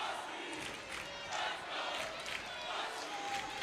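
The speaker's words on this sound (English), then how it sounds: "Huskies fans, they're fighting right back with a cheer of their own." Visiting Michigan Tech Huskies fans cheer and chant during a college hockey championship game against Bemidji State in an arena, a distant, swelling crowd roar rising and falling in waves.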